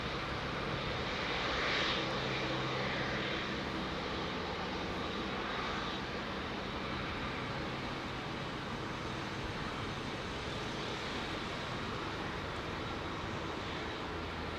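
A Court Line BAC airliner on Heathrow runway 09R produces a steady, broad engine roar that holds for about fifteen seconds at a moderate distance, with no voices over it.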